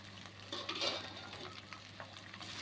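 Cut okra pieces fry in oil in a pan, a close, soft, steady sizzle broken by light stirring scrapes and faint clinks of utensil on metal, with no talk.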